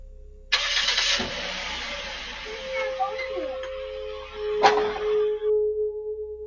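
A vehicle engine starts and revs as the car pulls away, a broadband roar fading over several seconds with a sharp knock partway through, recorded near.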